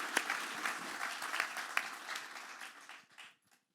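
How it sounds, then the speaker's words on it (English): An audience at a Bay Area–Silicon Valley summit applauds for university leader Lynn with dense clapping that rings out strongly and then thins and fades to silence over a few seconds. "let's give Lynn a round of applause for all that she does leading a fantastic university"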